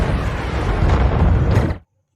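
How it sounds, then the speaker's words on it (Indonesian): A big film explosion as missiles blow up a facility in Pacific Rim Uprising: a loud, continuous roaring blast with deep rumble that holds for under two seconds and then cuts off abruptly to silence. "langsung menembakkan misil dan meledakkan fasilitas tersebut seolah menyembunyikan sesuatu"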